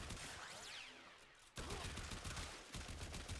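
Slow, widely spaced gunfire from a weapon in the video game Warframe, a sharp loud shot about midway and another near the end over a dense, noisy game soundscape.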